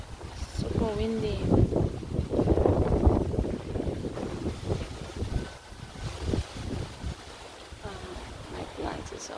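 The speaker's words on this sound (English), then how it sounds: "Super windy." Gusty typhoon wind buffets the microphone in uneven surges outdoors, with a dog's whines and a voice heard over it.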